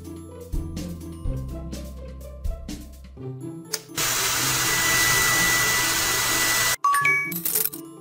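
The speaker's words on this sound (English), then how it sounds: "Turn on the hairdryer." Cartoonish chimes and tones from a Kiki & Fifi pet salon kids' game give way to a few seconds of steady hair-dryer blowing, followed by bright jingle notes.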